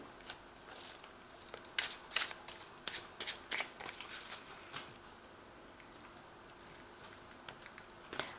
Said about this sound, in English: I have shuffled this deck